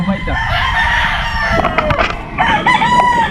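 Roosters on a Filipino gamefowl farm crow close by, with one long crow and others overlapping, plus some clucking, under a faint murmur of people talking nearby.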